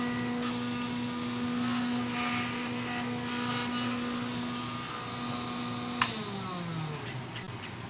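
PM3 engraver cutting a nameplate gives a steady motor hum with a whining spindle tone, then a sharp click and a falling spin-down as the spindle lifts, near and alone.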